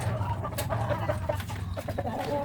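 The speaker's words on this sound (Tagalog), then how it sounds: "Tingnan mo po yung mga manok ko. Nagwawala na." Several hungry chickens cluck and squawk in an agitated burst in the morning, overlapping calls close by with some background chatter.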